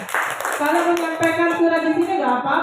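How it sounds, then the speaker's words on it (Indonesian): A classroom group claps for Nagita during an open class session, a short burst of mixed applause heard under a speaking voice and fairly close. "Tepuk tangan buat Nagita."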